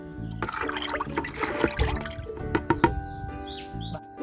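Water-based liquid fertilizer is poured onto rose plants, making a steady splashing and trickling of liquid that runs for several seconds at moderate level, with no talking.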